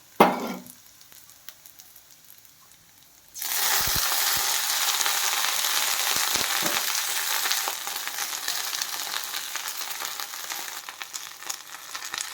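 Washed coriander leaves hit a hot pan with tamarind for a thuvaiyal. After a quiet start there is a sudden loud, steady sizzle with scattered stirring knocks, which eases a little toward the end.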